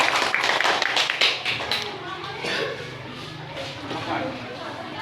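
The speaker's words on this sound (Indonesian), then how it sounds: "langsung beri tepuk tangan ya." Children in a classroom clap in short bursts of quick, close claps near the start, with an adult talking over it and the room going quieter afterward.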